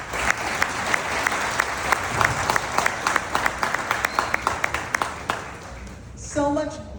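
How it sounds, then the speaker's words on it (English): Audience applause fills the hall at a conference session, steady clapping with sharp individual claps standing out, fading toward the end as a voice briefly speaks. "everyone here needs to give themselves a big round of applause for that"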